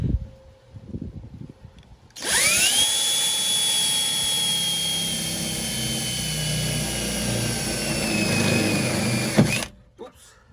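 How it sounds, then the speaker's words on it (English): A power drill bores holes through the floor of a Mahindra ROXOR to mount heavy-duty floor mats, a loud steady whine running about seven seconds after a brief lead-in of handling noise, then stopping abruptly. "So now I'm gonna proceed with drilling."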